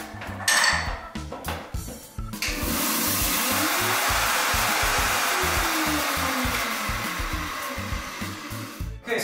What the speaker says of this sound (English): We're going to start with the flax seeds because you have to blend them dry.